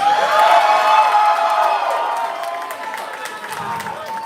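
Audience at a live concert at The MacBeth Theater in Kansas City cheers, whoops and applauds loudly, the roar peaking at the start then settling into sustained clapping and shouts.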